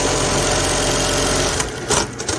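A Juki LBH-780 buttonhole sewing machine runs with a dense, rapid mechanical clatter and hum for about a second and a half, then stops, leaving a few faint clicks.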